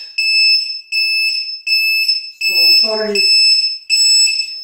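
Loud, high-pitched electronic beeping in a steady repeating pattern of pulses from a LiPo battery low-voltage alarm, with a single short spoken word cutting in midway.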